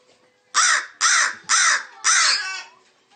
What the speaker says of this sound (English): here's Catherine taking a break with Edgar, the American crow